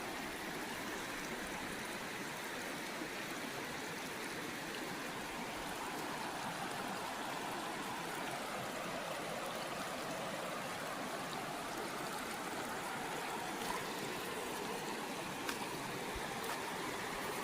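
Creek water flowing through a wooded wilderness area in Coosa County, Alabama: a continuous soft rushing and trickling wash, steady and moderately distant, with no voices.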